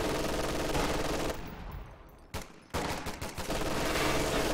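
Long sustained bursts of MG42 machine-gun fire in Company of Heroes 2, dense and loud, broken by a brief lull with scattered shots before the continuous fire resumes.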